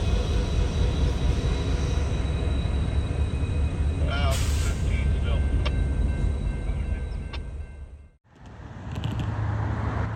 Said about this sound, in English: It will then shove its train into the yard